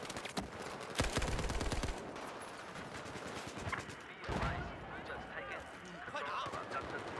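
M60 machine gun rattling off a long sustained burst in a Battlefield-style 64-player online shooter match on the Pearl Market map, loud and close, followed by more scattered gunfire and a voice talking over the action.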